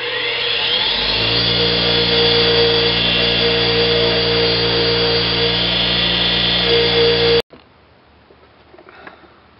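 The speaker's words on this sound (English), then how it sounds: "So we're just going to clean these nasty looking threads up." A bench wire wheel scrubs the dirty threads of a Ford Super Duty 220A alternator bolt, a loud steady whirring grind with a high whine that runs for about seven seconds, then cuts off abruptly and leaves faint handling noises.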